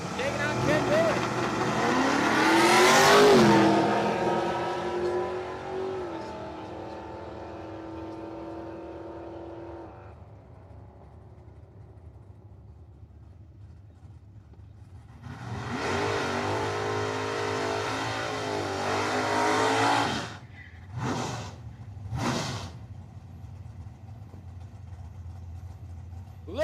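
Pontiac WS6 launching at Cordova Dragway, loud engine revving and a roaring pass that fades, then another loud engine burst and several short sharp revs later, with a person talking over parts of it.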